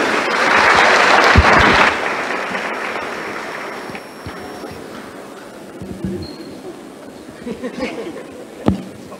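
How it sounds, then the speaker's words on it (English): Audience applause for the panelists closing a media conference session, a loud burst of clapping for about two seconds that fades into quieter room noise with a few scattered claps and thumps. "A big round of applause to all of them."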